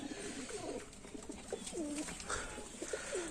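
Several pigeons coo in soft, repeated rolling calls around a feeding spot where the birds are eating grain and fruit, with steady low background noise and no talk.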